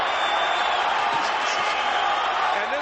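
A boxing arena crowd roars after the twelfth and final round, a steady wash of cheering and shouting that stays loud throughout while a commentator talks over it.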